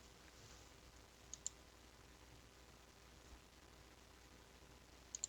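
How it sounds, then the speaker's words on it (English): A few sharp mouse clicks, faint and isolated against a quiet hiss, picking moves in a Pokémon battle game, with two pairs of clicks spaced a few seconds apart. "I'm just going to keep clicking Calm Mind."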